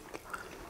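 Close bites into crunchy, moist panettone French toast, with a couple of soft crisp crunches and faint chewing at low volume, heard with no talking.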